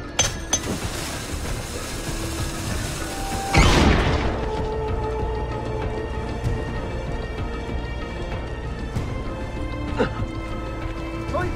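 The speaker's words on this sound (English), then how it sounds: "Still injured, Ezio can avoid engaging in direct combat using a diversion bomb, allowing him to continue his search for Leandros." Diversion bomb going off in Assassin's Creed Revelations, a sudden broadband burst a few seconds in, followed by clinking, rattling mechanisms and background game noise.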